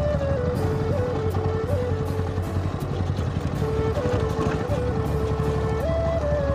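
A Bajaj Pulsar NS 125 motorcycle ridden off-road, its engine holding a steady, close droning hum with slight pitch shifts as the throttle changes.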